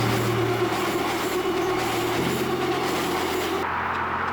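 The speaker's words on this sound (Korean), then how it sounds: "열차가 또 오고 있습니다." Seoul Subway Line 2 train approaching on an outdoor stretch beside the frozen Han River, a loud continuous rumble and roar of wheels and cars passing close by, steady throughout before easing slightly near the end.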